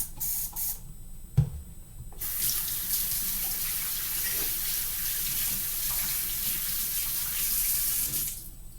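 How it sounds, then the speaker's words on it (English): Tap water runs steadily into a sink while hands are washed during bread dough prep in a home kitchen, a continuous close spray with brief pauses early on, no talking. "you always want to wash your hands as you prep your food."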